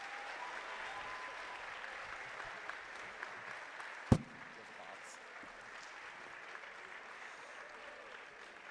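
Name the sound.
applause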